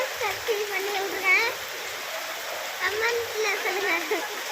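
Steady rain falls with a constant hiss, and faint chirping and a few scattered tones sit lightly on top.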